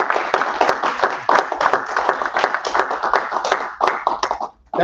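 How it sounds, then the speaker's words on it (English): Audience members at a live summit clap for John, a brisk, uneven burst of hand claps of moderate loudness that runs for several seconds before cutting off abruptly. "Give John a round of applause"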